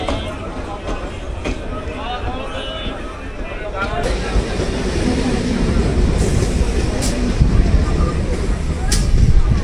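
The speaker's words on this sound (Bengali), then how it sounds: "ট্রেন কিন্তু ছেড়ে বেরিয়ে যাচ্ছে কাকদ্বীপ রেলওয়ে স্টেশন।" A train pulls out of Kakdwip railway station on the line toward Namkhana, a rumbling rolling clatter that gradually grows louder with occasional squeals and clanks, while people talk over it.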